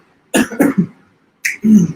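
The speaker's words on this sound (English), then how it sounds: "You might hear a slight cough" A few short, throaty coughs, two quick bursts, then a pause before another cough and a brief throat-clearing sound, close by with no talking.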